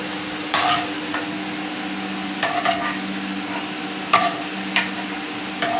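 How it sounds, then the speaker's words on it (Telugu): Roasted peanuts tipped from a pan into a mixer jar, giving several sharp clinks and rattles of metal at irregular intervals over a steady low hum, with no talk. "వేరుశనగ గుళ్ళు వేగినాయి. మిక్సీ గిన్నెలోకి తీసేసుకుంటున్నాను"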